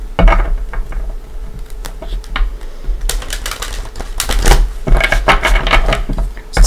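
A tarot card deck is shuffled by hand in close, crisp bursts of riffling and flicking, with brief pauses between rounds.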